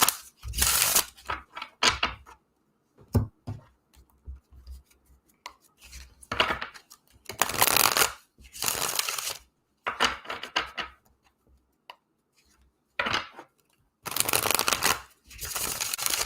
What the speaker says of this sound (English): I'm just going to pull cards now